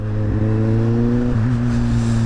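A Kawasaki Z1000 motorcycle engine hums loud and close at steady revs, its pitch briefly shifting as it picks up speed, with a constant buzzing drone throughout and no talking.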